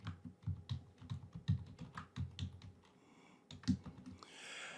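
Fingers type quickly on a computer keyboard while writing in Microsoft Word, close, crisp key clicks in uneven bursts with short pauses, no talking.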